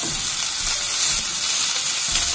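Salmon pan-frying with garlic in very little oil, a steady bright sizzle and hiss that runs without a break and stays close and even the whole time.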